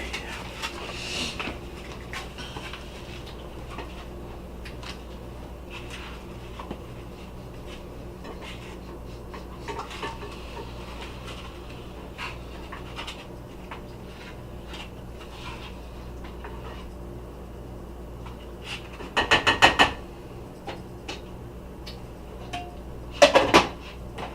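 Spoons and dishes clink and rattle softly at a table during a canned beef stew taste test, small scattered taps with two louder clattering bursts near the end, no talking.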